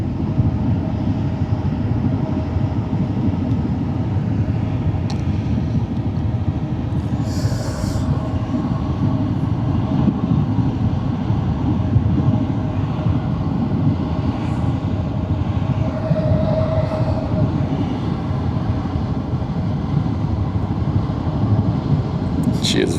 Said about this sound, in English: Nice engine sound. Yeah, she's noisy.